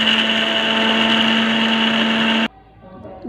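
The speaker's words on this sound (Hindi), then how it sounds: "मसाला हमारा ठंडा हो गया, अब हम इसे ग्राइंड कर लेंगे। मसाले को अच्छे से पीस लेना है" An electric grinder pulverizing roasted Dahi Bara masala spices, a loud high-pitched motor whine held steady for about two and a half seconds before stopping sharply, leaving a faint quiet tail.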